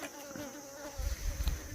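Faint buzzing of flies around young coconut hovers close by, a thin persistent drone with occasional low rustling bumps.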